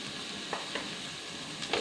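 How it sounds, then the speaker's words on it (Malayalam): Grated coconut and cooked jackfruit seeds are stirred in a pan for chakka thoran, with a steady low sizzle and a few soft scraping strokes of a spoon, close and fairly quiet. "ഇതൊന്ന് നന്നായി ഇളക്കുക"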